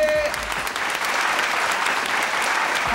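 Studio audience applauding on a Taiwanese television variety game show, a dense, steady clapping that fills the whole stretch at close range with no talk over it.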